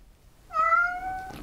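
A cat lets out one long, clear meow nearby, sustained for nearly a second before trailing off, with no other sounds or voices around it.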